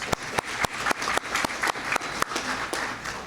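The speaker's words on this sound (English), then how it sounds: "I just want to give her a round of applause." A small group at a teacher of the year award event claps, scattered sharp individual claps at an uneven pace, fairly close and modest in volume.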